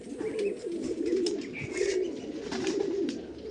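Madrasi pigeons coo nearby in soft, repeated throaty phrases, with faint rustling and light chirps in the background and no talking.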